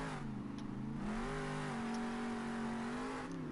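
Monster truck engine revving in the Monster Jam Steel Titans video game as the Bakugan Dragonoid truck takes a big jump over crushed cars; a steady, loud engine drone that rises in pitch and holds throughout.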